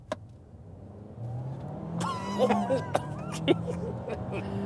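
A 2024 Chery Omoda 5 GT engine revs in sport mode and pulls away, its pitch climbing as it accelerates, with a voice briefly speaking over the noise.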